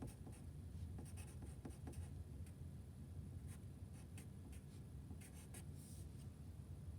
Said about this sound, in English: So we're going to write note